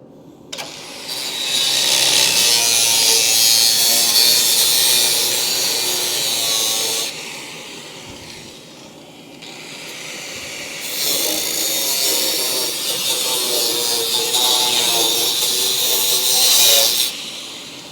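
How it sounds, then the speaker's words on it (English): A power tool cuts along the pinch weld of a Dodge Charger crew cab under restoration, making two loud, harsh high-pitched grinding runs separated by a short pause. "So I'm trying to cut along the pinch weld."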